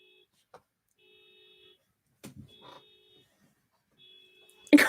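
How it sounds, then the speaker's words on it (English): Electronic beeping tones repeat at intervals, resembling a car alarm or horn pattern, with brief thumps and a sudden loud burst at the end. "The horn is cracking me up. I thought it was outside my house."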